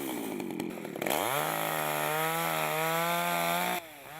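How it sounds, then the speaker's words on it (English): A chainsaw clearing brush: after a brief rough idle the engine revs up sharply to a loud, steady high whine held for a few seconds, then drops off abruptly. "You chainsaw and you gradually clear out the brush"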